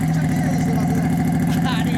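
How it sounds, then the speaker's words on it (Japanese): A 2010 Suzuki Intruder 400 Classic cruiser motorcycle idles close by with a steady low rumble while people talk over it. "エンジン音聞かせてもらえますか？"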